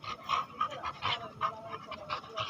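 A dog panting close by, quick rhythmic breathy huffs repeating for a few seconds, with faint background noise.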